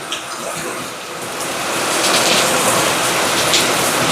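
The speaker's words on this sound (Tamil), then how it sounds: "மழையை பாருங்க. ஜெக ஜோதியா அடிச்சு ஊத்துது." Heavy rain pours down in a dense, steady hiss, growing slightly louder partway through, with no voices over it.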